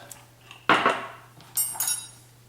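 A spoon stirs a spoonful of local pepper jelly into cooked cabbage and bacon, giving a loud clattering scrape followed by a couple of lighter metallic clinks against the dish over a steady low hum.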